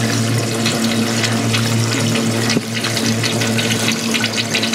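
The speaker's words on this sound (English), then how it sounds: "Draining the GrowPito with a little wash machine." A small washing machine pump drains water from a GrowPito planter, a loud steady whirring hum with rushing, gurgling water running continuously throughout, briefly dipping once midway.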